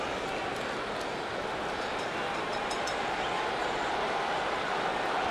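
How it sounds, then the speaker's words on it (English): A baseball stadium crowd at a Red Sox at Yankees game buzzes after a home run by Cabrera, a steady, dense roar of many voices that holds level throughout with no distinct talk on top. "Crowd still buzzing over that home run by Cabrera."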